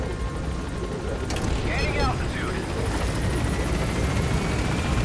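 A helicopter in the video game Metal Gear Solid V drones steadily throughout at close range, a loud continuous rotor roar with a few brief higher game tones midway and no speech.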